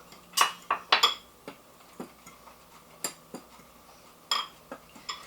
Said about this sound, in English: Just mix that in with a fork.